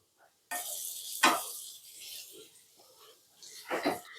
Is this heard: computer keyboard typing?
no